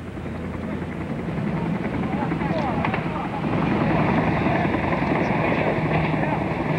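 Troop-carrying helicopters fly over Panama City during the 1989 U.S. invasion, a loud continuous rotor roar with wind buffeting that swells toward the end.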